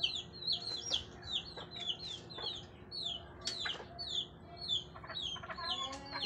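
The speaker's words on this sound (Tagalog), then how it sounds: "yung mga alaga kong manok" Backyard pet chickens clucking and squawking while hungry, a busy overlapping series of sharp calls repeating throughout at close range over faint background noise.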